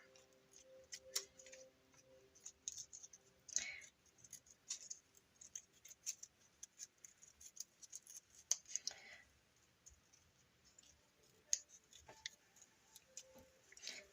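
Scissors cutting around a glued paper circle for a junk journal: faint, irregular snips and crisp clicks close by, scattered over quiet background with occasional soft speech.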